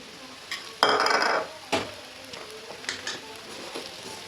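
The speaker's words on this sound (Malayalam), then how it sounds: "ഇനി നന്നായിട്ട് മിക്സ് ചെയ്യുക ഇതെല്ലാം കൂടെ" Soaked sago and crushed peanuts are stirred together in a pan, with a loud scrape early on followed by several lighter clanks and scuffs of a utensil against metal.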